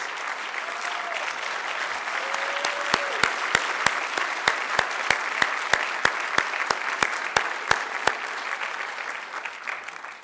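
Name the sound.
audience applause for Eric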